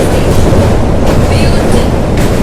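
Passenger train near Howrah Junction in West Bengal running loudly on its rails, with a continuous rumble and faint rhythmic clatter heard from on board.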